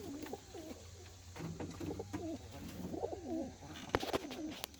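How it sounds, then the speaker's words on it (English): Young Birmingham Roller pigeons coo in a loft, soft repeated warbling calls overlapping at close range against a low steady background hum, with a few brief sharp knocks near the end. "I'm just showing you guys my kid birds"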